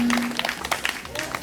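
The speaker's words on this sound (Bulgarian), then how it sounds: "Чудесни изпълнени, аплодисменти" Audience at a Bulgarian folk music competition claps for a folk group after their performance, a short burst of scattered applause following a sustained sung note, with a voice briefly present.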